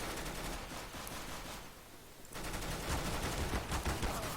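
Counter-Strike: Global Offensive gunfire, a loud automatic rifle burst that rattles on, breaks off briefly in the middle, then resumes in another rapid volley.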